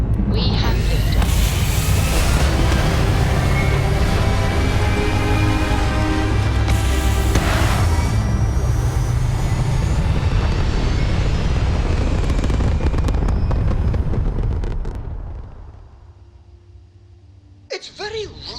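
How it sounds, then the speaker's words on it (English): A spaceship lifts off in the modded game Starfield with a loud, continuous roaring thrust and deep rumble that holds steady for about fifteen seconds, then fades away, leaving faint clicks and a brief burst at the end. "We have liftoff."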